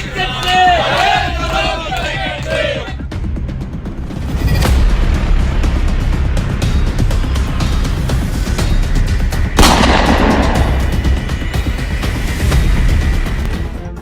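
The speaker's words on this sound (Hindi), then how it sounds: "बार चुनाव रद्द होने की सूचना पर गुस्साए कुछ लोगों ने शताब्दी द्वार के बाहर हवाई फायरिंग करना शुरू कर दिया" Shots fired into the air outside a gate amid angry crowd shouting after a bar association election in Kanpur was cancelled, sharp bangs cracking over a loud roaring crowd with a burst of echoing booms.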